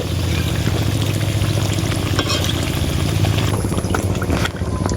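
Potato chops fry in hot oil, giving a steady, dense sizzle and bubbling that carries on without a break, close up and fairly loud.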